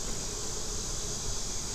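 Honey bees buzzing around an open hive during an inspection, a dense, steady hum of many wings with no pauses, fairly faint and unbroken.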